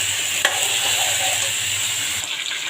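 Vegetables sizzle and fry in a hot pan, a close, continuous crackling hiss with a brief clatter of the spoon stirring them.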